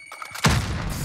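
A frag grenade detonates in Call of Duty Warzone, one heavy close boom that follows a faint scuffle and rolls out into a dense, lingering rumble.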